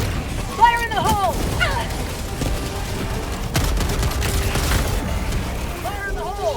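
A grenade blast in the video game Helldivers 2, a sharp boom early on followed by rumbling gunfire and mechanical clatter, with a second burst of combat noise partway through.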